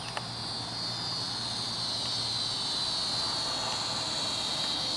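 A Flyzone DH 82 Tiger Moth RC airplane flies overhead, its small electric motor giving a steady, fairly distant whine over a continuous outdoor wash.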